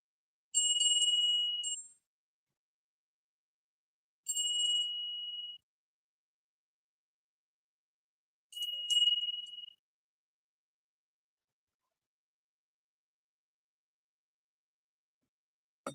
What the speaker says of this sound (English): anyone who is sensitive to ringing of a bell or abrupt noises, just a pre-warning